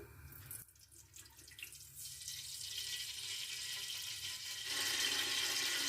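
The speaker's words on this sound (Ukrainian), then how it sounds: "Так, заливаємо олійку." Cooking oil streams into a pan in a faint, close trickle that swells into a brighter, steadier pour near the end, with no talk.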